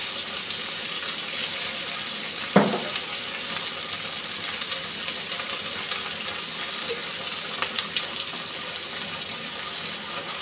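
Tomato sauce pours into a hot pan of chilli chicken with onion and capsicum, raising a soft, continuous sizzle with a sharp splash near the start and small crackles later.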